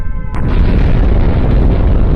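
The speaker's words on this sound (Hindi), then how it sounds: "पोखरण में 2 और न्यूक्लियर बम धमाके होते हैं।" Nuclear bomb test explosion at Pokhran, India, in 1998: a sudden heavy boom breaks in after a brief quiet tone, then a sustained deep, loud rumble rolls on to the end.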